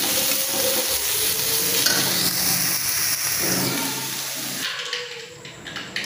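Prawns fry in hot oil with a loud, close, shifting sizzle, apparently stirred, that eases somewhat toward the end.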